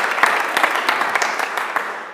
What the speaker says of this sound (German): Ich wäre Ihnen dankbar für einen kleinen Applaus.